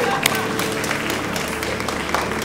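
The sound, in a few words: audience applause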